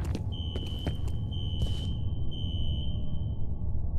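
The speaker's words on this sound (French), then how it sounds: "Une alarme anti-incendie?" Electronic fire alarm tone in the shooter game F.E.A.R., a steady high-pitched sustained ring running for several seconds over a low rumbling background with brief clicks, fairly loud and without speech.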